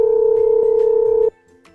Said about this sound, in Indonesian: Aku telepon bapaknya dulu deh